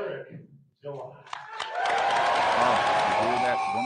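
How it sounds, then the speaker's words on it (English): A crowd bursts into sustained applause and cheering after a few scattered claps, loud and close, preceded by a brief moment of talk. "Oh, you hear that wonderful crowd?"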